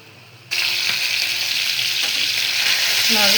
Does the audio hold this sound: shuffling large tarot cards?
no